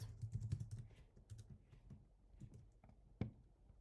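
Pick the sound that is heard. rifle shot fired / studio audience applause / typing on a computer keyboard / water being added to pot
typing on a computer keyboard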